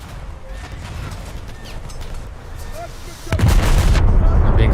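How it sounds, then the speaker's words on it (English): Italian battleship shelling in a naval combat video game: steady low rumbling battle noise with scattered distant booms, then a loud close impact around the three-second mark that swells into a sustained heavy roar. "I think I'm getting shelled by an Italian battleship."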